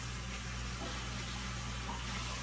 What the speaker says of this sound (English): You just rinse off the bottom with some tap water from the sink.